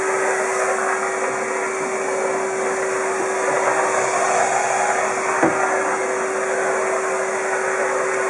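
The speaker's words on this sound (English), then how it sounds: "I'm going to follow up with the vacuum." Vacuum cleaner sucking up substrate from a snake enclosure, a loud, steady motor whine with a constant tonal hum, running continuously with a brief knock partway through.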